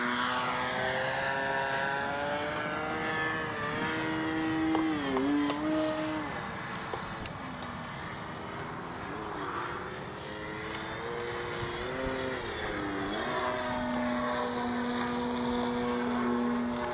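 A Great Planes Ryan STA radio-controlled model airplane flies overhead on its maiden flight, its engine droning and shifting pitch as it passes, moderately loud and continuous with no talk.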